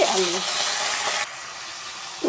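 Thinly sliced potatoes hit a hot pan and fry with a steady bright sizzle that drops abruptly to a quieter hiss halfway through, then flares again at the end.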